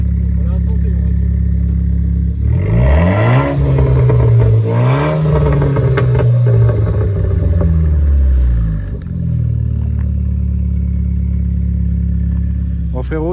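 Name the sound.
Renault Clio 4 RS engine revving, small roar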